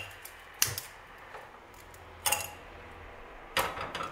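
A gas hob on a home kitchen stove is lit for a small pot, giving three sharp igniter clicks spaced about a second and a half apart, close and fairly loud against a quiet room.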